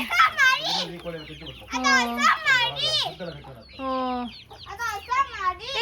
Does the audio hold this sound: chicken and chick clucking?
yes